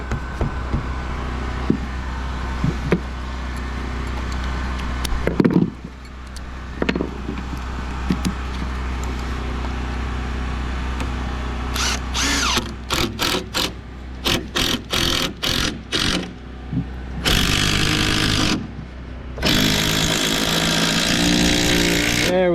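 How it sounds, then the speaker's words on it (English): An impact driver sinks a TimberLOK screw into second-story wall framing to pull a gap tight. Machinery hums steadily, then come loud rapid hammering bursts and a sustained final drive, with short pauses between. "I'm just gonna use the impact and a timber lock to pull it"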